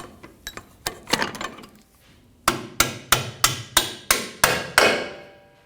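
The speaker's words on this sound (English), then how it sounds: "Using a hammer, tap the bolt out." Metallic hammer strikes tapping a control arm bolt out of a 2019-2025 Ram 2500 rear suspension: a few scattered taps, a pause, then seven evenly spaced sharp blows, close and loud, each with a brief ringing decay.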